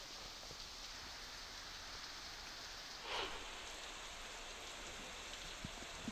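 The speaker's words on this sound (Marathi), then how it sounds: "पालघर जिल्ह्यामध्ये मुसळधार पाऊस पडतोय" Torrential rain falls across Palghar district in a soft, steady hiss heard at a distance, with one brief swell of louder splashing midway and no voices.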